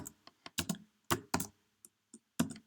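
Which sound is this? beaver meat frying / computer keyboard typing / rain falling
computer keyboard typing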